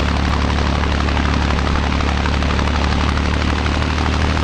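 Cessna 172 engine in the Flight Unlimited flight game, a loud steady droning propeller hum with a constant low throb, unchanging from start to finish.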